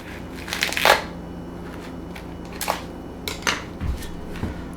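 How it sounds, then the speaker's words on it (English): Butter and blue cheese being mixed in a bowl, with scattered scraping and clinking strokes of a utensil against the bowl, one louder knock near the start and a few softer ones later, no talking. "let's mix this butter and this blue cheese together"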